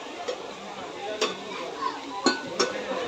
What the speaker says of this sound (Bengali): এটা হলো কড়াই